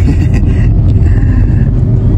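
Car engine rumble inside a Grab ride-hailing car, a loud, steady low drone that fills the cabin throughout, with no voices over it.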